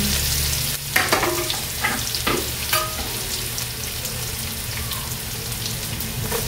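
Plenty of chopped garlic sautés in hot oil in a pan as a steady, close sizzle runs throughout, with a few brief clinks and scrapes of stirring near the start.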